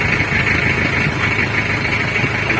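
A freshly rebuilt Mitsubishi L300 diesel engine idles close by with a steady, even rumble and clatter, constant throughout and without voices.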